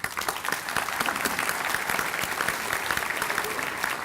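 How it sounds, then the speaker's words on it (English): An indoor audience gives steady, dense applause for the full stretch with no voices. "put your hands together and give a big round of applause to our friend Michael Vanover."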